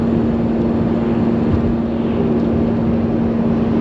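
Steady interior drone of a Mercedes-Benz W124 300D with its naturally aspirated diesel engine while driving, a constant loud hum with a strong low tone and road rumble, unbroken throughout.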